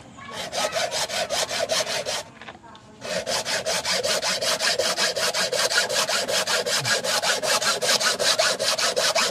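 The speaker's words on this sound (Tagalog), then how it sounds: "Tapos ang hirap mga kabayan pag lagari ng ganyan, oh." A hand saw cuts through coconut shell or bamboo as Aeta craftspeople shape cups and coin banks, with steady rapid back-and-forth rasping strokes, loud and close, briefly pausing near the start before resuming evenly.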